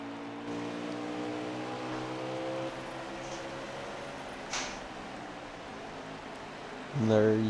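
Race truck engine exiting pit road at Bristol, a steady droning motor hum with a sharp rise in revs at the end, under a commentator's voice.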